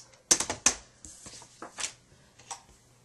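Sheet of cardstock being cut in half for a handmade Valentine's Day card, heard as a few sharp, close clicks followed by lighter scraping and snipping sounds in a quiet room.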